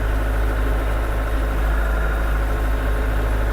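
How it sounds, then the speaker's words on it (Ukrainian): Scout 404 tractor engine running steadily with a 1.4 m rotary tiller attached, a loud, continuous low idle-like drone with constant vibration, close by and with no talking. "трактор взагалі без навантаження йде."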